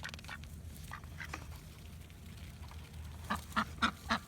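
Ducks quack several times, the calls coming louder and closer toward the end over a steady outdoor background hum.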